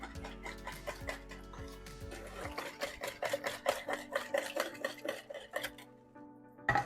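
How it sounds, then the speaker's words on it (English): Spoon clinking and scraping against a mixing bowl while stirring a chocolate chip bread pudding mixture, a quiet run of irregular taps and knocks with a low hum fading early. "Let's give this a mix."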